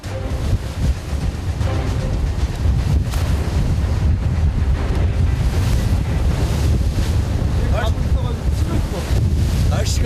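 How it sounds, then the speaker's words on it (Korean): Rough sea off Heuksando during skate fishing aboard a fishing boat in worsening weather, with waves surging and wind roaring into the microphone in a loud, steady wash that never lets up. "하지만 파도는 좀처럼 가라앉을 생각을 않는다."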